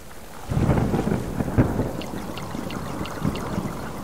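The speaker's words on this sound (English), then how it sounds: "Sounds like we're definitely having a, a stormy day today." A thunderstorm in the video game Subsistence rumbles with rolling low thunder and steady rain; a few faint high clicks and taps sound over the storm. No one speaks.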